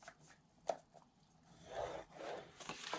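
A 9x9 inch craft piece being scored along its edges for a box makes faint, close rubbing and scraping strokes, a few soft taps followed by longer drawn passes, with no talking.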